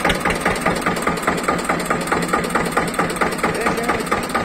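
A tractor diesel engine idles close by with a loud, rapid, even knocking beat that holds steady throughout.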